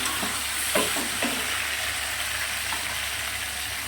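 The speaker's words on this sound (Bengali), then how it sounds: "বেশ কিছু সময় নাড়াচাড়া দেবো।" Vegetables frying in a pan give a loud, continuous sizzle close by, broken by soft scraping stirs, with no talking.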